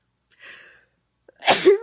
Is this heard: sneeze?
yes